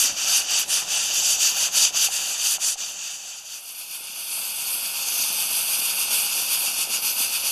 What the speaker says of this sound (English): hopefully you can see the weight jiggling a little bit